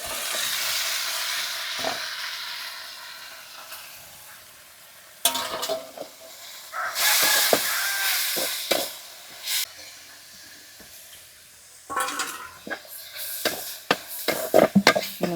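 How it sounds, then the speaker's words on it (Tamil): Tempering sizzles loudly in a pan on an outdoor village stove as it is stirred, giving bursts of hissing frying with scraping stir strokes. The sizzle rises and fades in waves, and steady wind blows over it. "தண்ணி நல்லா வடிச்சிட்டு தாளிப்பு கொடுத்துடலாம்."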